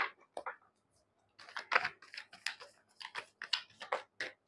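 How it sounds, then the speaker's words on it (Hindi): Tarot cards scatter across a surface in a quick, faint series of light papery flicks and clicks, with short gaps between bursts. "सारे कार्ड्स बिखर गए।"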